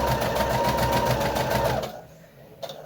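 A sewing machine stitches a foundation paper pieced Christmas star quilt block in a fast, even rhythmic whir close up, then stops abruptly near the end with a brief click.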